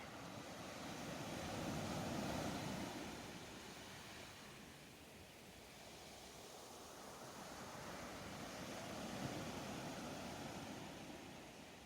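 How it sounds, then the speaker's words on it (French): Ocean waves wash in slow swells, rising and falling twice in a steady, soft roar with no voices. "Écoutez le chant apaisant des vagues,"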